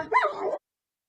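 A house dog confronting a large crab-eating macaque that has entered the home gives one short, yelping bark, fairly faint, then silence.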